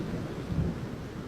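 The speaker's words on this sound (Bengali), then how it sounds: "আকাশ বেশ ঘন কালো মেঘে, শুরু হয় বাতাস আর বৃষ্টি।" A thunderstorm with wind and rain at night makes a low, steady rumble with a broad wash of rain noise. It is fairly faint and continuous, with a slight swell in the middle and no voices.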